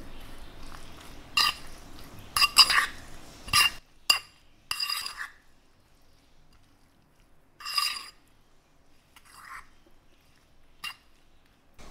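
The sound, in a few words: mixing cucumber yogurt sandwich filling with a spoon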